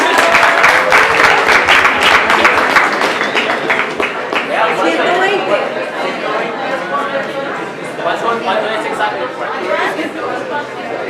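A live audience at a Spanish-language quiz event bursts into loud, sustained applause mixed with crowd chatter, the clapping thinning slightly toward the end.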